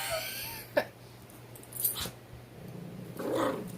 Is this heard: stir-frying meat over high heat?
no